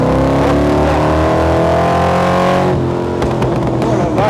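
AC Cobra V8 engine revving hard under acceleration in third gear, a loud, dense harmonic roar that climbs steadily in pitch, then breaks into rougher crackling bursts as the throttle changes near the end.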